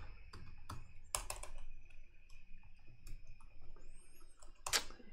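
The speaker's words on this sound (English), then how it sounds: "If I can type on this keyboard" Scattered keystrokes on a computer keyboard tap out in sparse, irregular clicks over a quiet room hum, faint and close with no talking.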